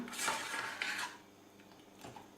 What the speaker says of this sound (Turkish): Şimdi bunları bir güzel karıştıracağız önce.